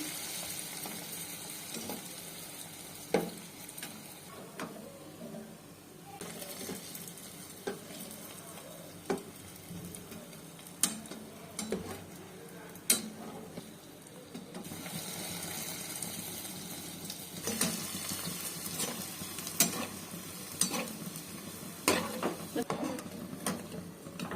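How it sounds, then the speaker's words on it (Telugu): Bread pieces frying in oil for a vegetable biryani, a soft continuous sizzle dotted with small pops and clicks, running at low level beneath intermittent talking. "బ్రెడ్లు నూనెలో వేసుకున్నాము"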